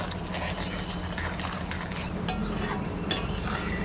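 Prawn malai curry with sugar added is stirred in a pan: a close, steady scraping and rattling of a utensil against the pan, with a couple of sharper knocks near the end.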